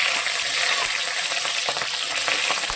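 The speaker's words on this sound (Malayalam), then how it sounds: "ഓയിൽ ചൂടായിട്ടുണ്ട് നമുക്ക് ഇഞ്ചിയും വെളുത്തുള്ളിയും കൂടെ ആദ്യം അതിനുശേഷം പച്ചമുളക് ഇട്ട് കൊടുക്കുക" Ginger, garlic and green chilli fry in hot oil for gobi manchurian, giving a loud, continuous crackling sizzle with occasional stirring clicks.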